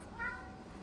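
A single short, faint cat meow, brief and close, against quiet background noise.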